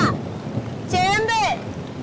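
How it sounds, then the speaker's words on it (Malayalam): Heavy monsoon rain in Kerala makes a steady, dense hiss throughout, with a person's voice briefly heard over it. "നല്ല മഴയാണ് കേട്ടാ"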